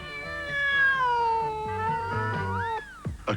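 A cat gives a long, drawn-out meow that bends and rises in pitch near its end, loud and close, over a low rhythmic background.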